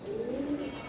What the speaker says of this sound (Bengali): গলা কষা কবুতর মুজাওয়ালা আছে।